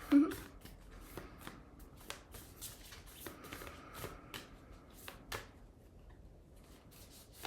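Tarot cards shuffled and pulled by hand, a soft papery riffling and sliding with scattered crisp slaps, close and fairly quiet, with faint talk in places.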